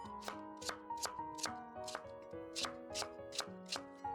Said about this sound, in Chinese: 将红薯切薄一点，